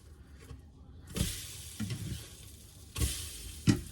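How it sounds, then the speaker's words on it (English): French toast fries in a pan with a steady low sizzle, and sharper bursts of hissing and clatter come near the start, middle and end as the slices are flipped. Nobody speaks. "Let me flip this French toast."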